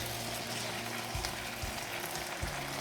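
Chicken stir fry with scallions sizzling in a hot pan, a close, steady frying hiss broken by a few soft thuds of tossing.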